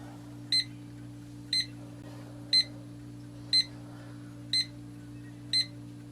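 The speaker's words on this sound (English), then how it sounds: "So here's the alarm" A SMARTRO SC91 projection alarm clock gives six short, bright electronic beeps, evenly spaced about once a second, over a steady low electrical hum.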